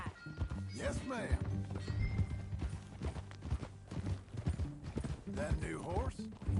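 A horse in Red Dead Redemption 2 clops along at a steady riding pace, hooves mixed with tack and movement noise, while characters talk over it throughout.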